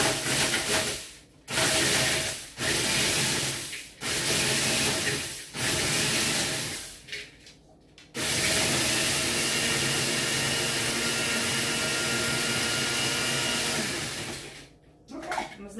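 A food processor pulses to crush cookies in a home kitchen, several short loud whirring bursts separated by brief pauses, then one long continuous grinding run of about six seconds, a final burst closing it out.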